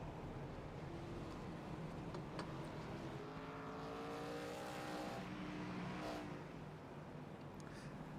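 ARCA Series race cars rolling past the start-finish line under caution behind the pace car, engines droning and revving at a moderate distance, a steady mechanical hum with rising and falling tones.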